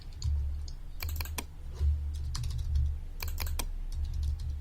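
Steady, fairly close typing on a computer keyboard: clusters of sharp key clicks and clacks in uneven bursts over a low background hum, with no talking.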